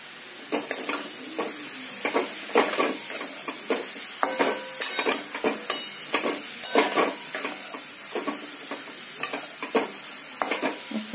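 Carrots and peas with coriander sautéed in a hot pan, a constant sizzle under repeated scraping stirs of a spatula, close and steady with no talking.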